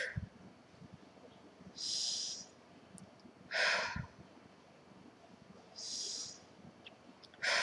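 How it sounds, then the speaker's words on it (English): Deep breaths taken in three times during an EFT tapping session, each inhale a soft airy rush spaced a couple of seconds apart, with no talking. "So we're going to breathe in 3 times."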